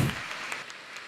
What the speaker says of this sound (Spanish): Les pido un aplauso para mis amigos panelistas